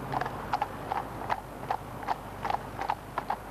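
Horses' hooves clip-clop steadily on a hard surface at a wedding or similar event, with regular paired strikes repeating through the whole stretch at moderate loudness over a low background hum.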